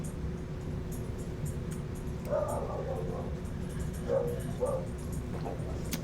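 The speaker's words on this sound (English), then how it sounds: "Please excuse the barking dog in the backyard." A dog barking in a backyard, a few muffled, distant barks under steady low background hum.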